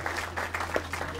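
An audience at a literary festival in Cap Ferret claps for an author, a short burst of uneven, fairly close hand claps over a low steady hum.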